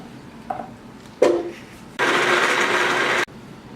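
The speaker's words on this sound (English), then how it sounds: "I'm just going to throw them into my blender." A blender whirs through roughly chopped beets in a home kitchen, preceded by a couple of brief knocks and clatters, then running loud and steady for just over a second before cutting off abruptly.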